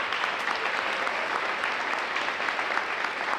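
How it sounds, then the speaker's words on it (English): Steady audience applause for Cindy Wildman at a school district State of the District address, an even wash of many hands clapping throughout, fairly distant and without voices. "let's give her a round of applause"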